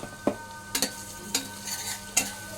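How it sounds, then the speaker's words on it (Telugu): Ginger garlic paste frying in oil for chole masala: a low steady sizzle punctuated by four or five sharp clicks and scrapes of a spoon against the pan, close and quiet. "అల్లం వెల్లుల్లి పేస్ట్ మంచిగా ఫ్రై అయ్యింది"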